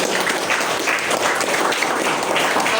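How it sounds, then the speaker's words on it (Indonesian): Steady, dense clapping from an audience during a teacher's classroom performance assessment, continuous and fairly loud throughout. "Tepuk tangan untuk"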